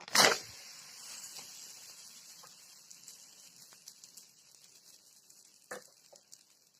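Green gram roti cooking on a dosa pan over a medium flame: a steady, soft, close sizzle of dough frying, opening with a brief sharp hiss as it meets the hot pan, then a few light taps and crackles.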